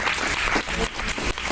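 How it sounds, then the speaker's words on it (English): Dense applause from an audience at a poetry slam, steady loud clapping across a short burst with no pause. "Applause the poet."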